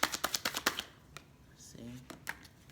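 A deck of tarot cards being shuffled: a quick run of sharp, close riffling clicks, followed by sparse soft card snaps and a faint murmur in a quiet room.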